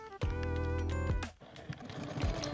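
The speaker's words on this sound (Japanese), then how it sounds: "半分に折って返し口を残してミシンで縫います。" A sewing machine runs in a short steady burst while stitching a folded tote bag pocket with a 1 cm seam allowance, its motor hum close and even before stopping; faint handling sounds follow.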